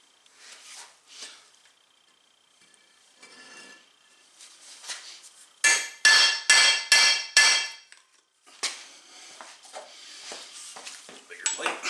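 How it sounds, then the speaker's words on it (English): Metal hammer blows strike a socket to drive out a wheel bearing from a Mercedes W210 E320 front suspension: five loud, evenly spaced ringing hits, with lighter taps and scraping before and after. "and then I will flip it over and hit it back again, and that should break it free."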